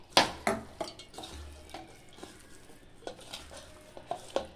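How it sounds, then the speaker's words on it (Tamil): Water poured and stirred into an onion pakoda batter of sliced onions and flour, heard as a series of close, soft splashes and mixing sounds in a quiet kitchen. "கொஞ்சம் தண்ணி விட்டுக்கலாம்."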